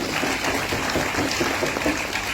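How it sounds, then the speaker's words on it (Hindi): Steady, dense applause from a workshop audience fills the room for a weight-loss participant, sustained and fairly loud throughout with no break. "जोरदार तालियां हो जाए शैलेश भाई"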